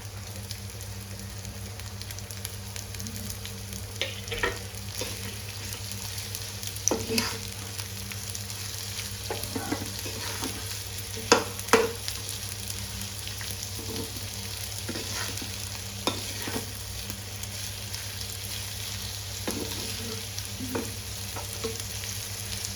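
Carrots, cauliflower and onion stir-fry together in a pan for rice noodles, keeping up a soft continuous sizzle for a long stretch. Occasional scrapes and clicks from stirring break through, and no one speaks.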